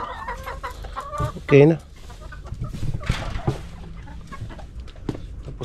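Hens cluck and squawk on a small backyard farm, with one loud, close burst of cackling standing out among scattered softer clucks, while a person talks nearby.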